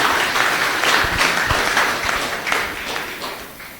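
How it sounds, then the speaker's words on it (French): A church congregation applauds loudly and steadily for a brother freed from Kribi prison, a dense wash of clapping with a few scattered claps and whoops that slowly fades toward the end. "Acclamons encore très très fort pour notre frère"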